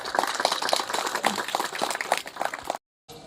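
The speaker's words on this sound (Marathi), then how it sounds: "नेताजी मामासाठी जोरदार टाळ्या." An audience of children and adults at a primary school's annual gathering claps for a guest in quick, rhythmic, unison beats. The claps are loud and close for under three seconds and then cut off abruptly.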